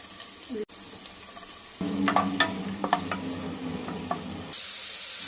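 Sliced onions dropped into hot oil in a pressure cooker for mutton curry, frying with a steady sizzle and hiss, with a few scrapes and clinks of a spoon against the pot, close and fairly quiet.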